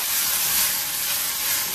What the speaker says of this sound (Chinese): 来点酱油上个色